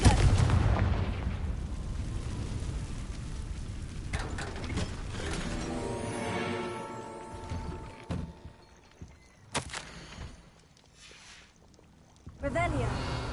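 Confringo fire-blast spell in Hogwarts Legacy: a loud fiery burst with a mechanical, booming impact, then a crackling whoosh and a few sharp pops that trail off into quiet before another loud swell at the end.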